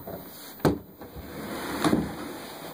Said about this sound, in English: Looks like this door is off the track.